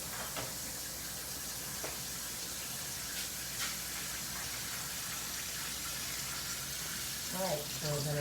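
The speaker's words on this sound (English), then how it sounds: "keep it under the running water, open up all the joints, rinse off any of the bioburden" Tap water runs steadily into a sink with a constant hiss, a few clinks and bumps of sink parts being rinsed under the stream during decontamination.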